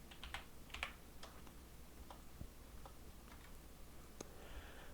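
Typing on a computer keyboard, a handful of quiet separate key clicks spread over a few seconds against a faint steady hum, no voices.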